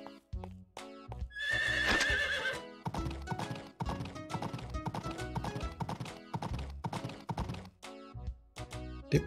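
Horse in the farming game Story of Seasons: Pioneers of Olive Town gives a loud whinny near the start, followed by steady rhythmic hoof clip-clops continuing throughout amid game sound effects, with no talking.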